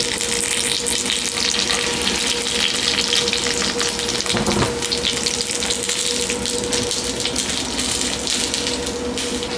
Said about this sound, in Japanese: 火力が、強火から弱火まで下がっていきます。 ゆっくり焼いていきます。